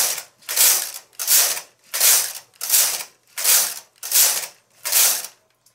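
Seven rhythmic carriage passes of a knitting machine knitting rows of yarn, each a loud mechanical rattling sweep with short quiet gaps, close and without talk.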